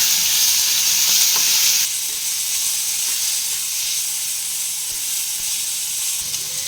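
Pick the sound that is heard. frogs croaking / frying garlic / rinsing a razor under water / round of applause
frying garlic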